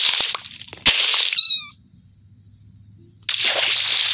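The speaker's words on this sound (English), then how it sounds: "Look at the baby kitten over there." A kitten in Minecraft gives short, close, synthetic-sounding meows, a couple of bursts separated by a brief quiet gap, with no speech over them.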